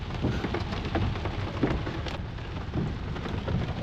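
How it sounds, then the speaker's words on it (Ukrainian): Heavy rain pours down steadily on a fishing trip, a dense close hiss with scattered heavier drops and low rumbling underneath, no voices heard. "Пішов такий дощ, що це просто жесть."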